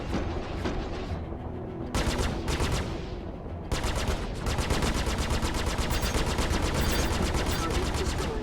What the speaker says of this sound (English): I'm being shot at, I think.